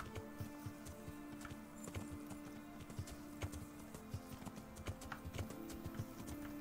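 A horse in the video game Kingdom Come: Deliverance trots and gallops through bushes, a steady rhythm of close, clear hoof clops with no talking.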